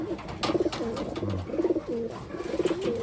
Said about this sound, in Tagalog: Pagtabihin natin mga kalapatids ito sa blue bar na to.